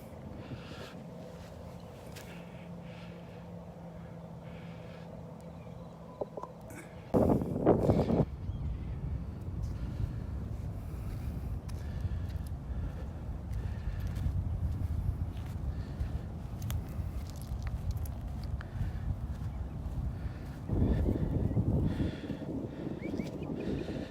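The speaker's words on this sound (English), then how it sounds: "with that wind blowing on, isn't that a wonderful wind?" Morning wind blowing across a beach at Delnor-Wiggins at sunrise, a continuous rumbling buffet against the microphone that swells into stronger gusts partway through and near the end, loud and close with no talking.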